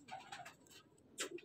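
A female pigeon kept by a pigeon fancier gives a short, soft coo near the end, with faint rustling and quiet bird sounds before it, all fairly close and low in level.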